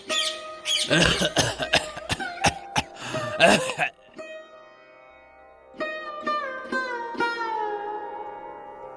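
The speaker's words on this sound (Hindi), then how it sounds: "आपको फिर से खांसी हो रही है" A run of harsh coughs close up, several bursts in quick succession, then a pause followed by a few weaker wheezy coughs.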